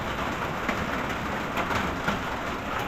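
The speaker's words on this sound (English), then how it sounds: "Just staying out of this mini downpour." A light downpour patters steadily on the roof of a woodshed beside an outdoor wood boiler, a continuous even hiss with no voices.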